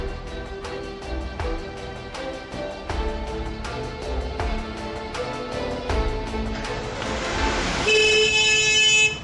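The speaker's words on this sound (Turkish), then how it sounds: "Basıyorsun kornaya." A car horn toots repeatedly in a steady rhythm over traffic noise, then swells into a long, louder blast at the end.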